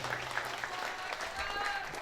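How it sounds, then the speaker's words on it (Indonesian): Faint applause from a congregation gathered at night in a large mosque for a religious celebration, a soft, distant patter of clapping. "Tepuk tangan dulu untuk kita yang berhadir pada malam hari ini."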